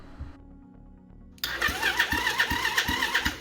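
A pit bike engine, freshly rewired, cranks after a short pause and catches, then runs with a steady pulsing putter and rhythmic low thumps, fairly close and alone.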